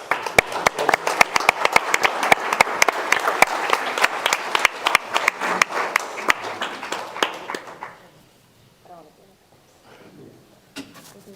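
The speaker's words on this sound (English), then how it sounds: "Give them a round of applause." A room of people at a city council meeting applauds in dense, sustained clapping that thins to a few scattered claps, then gives way to quiet voices talking.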